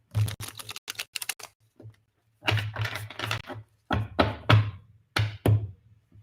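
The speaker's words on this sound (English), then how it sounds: "One more shuffle." Tarot cards shuffled by hand in quick bursts of crisp riffling and tapping, close and fairly loud, with short pauses between groups of flicks.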